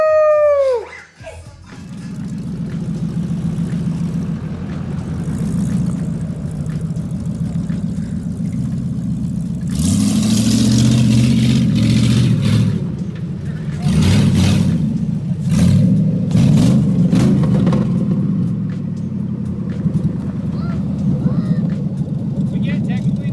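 A 1969 Chevelle V8 rumbles loudly and continuously nearby in a garage, swelling into a few throaty revs partway through, while people talk over the engine noise.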